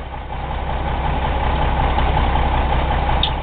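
A loaner truck's engine idles steadily, a constant low rumble with a mid-range hum, close and continuous throughout with no talking.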